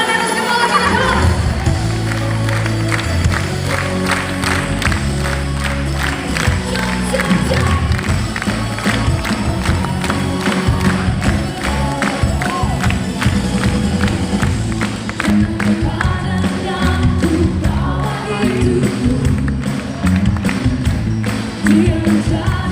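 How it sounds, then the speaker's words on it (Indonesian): At a praise and worship concert, a crowd claps hands overhead in steady rhythmic time beneath loud band music and singing, the beat-driven clapping continuing throughout. "Tepuk tangan di atas kepala kita"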